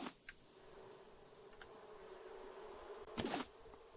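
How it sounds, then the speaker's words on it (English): Bees buzz in the survival video game Raft, a steady insect drone that carries through the clip, quiet and close, with a few faint clicks and a brief louder burst near the end. "More bees."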